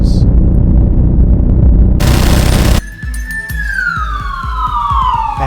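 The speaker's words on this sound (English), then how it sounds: "Lenny's ecstasy was cut short by the sound of sirens." A police siren wails in a long, loud descending sweep, following an abrupt burst of noise and rumbling.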